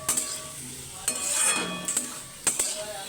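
Potato and egg bhujia is stirred in a pan over the gas, a spatula scraping and clinking against the metal in a few distinct strokes over a soft frying sizzle, with no talking.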